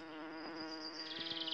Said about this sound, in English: For as you buzz from flower to flower, you pollinate each one.